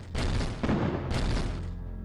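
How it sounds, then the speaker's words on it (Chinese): Shell explosions pound the battleship Dingyuan in a naval battle, a dense run of heavy booms and blasts rolling together with little pause, loud and close throughout. "密集的弹雨浇筑在定远身上，爆炸声接连不断响起"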